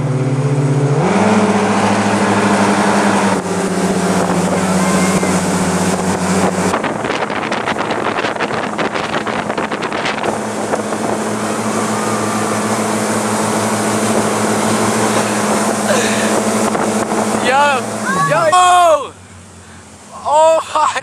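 Motorboat engine droning steadily on a lake for a long stretch, with a gear change partway through and heavy wind buffeting the microphone, then cutting off near the end as voices speak.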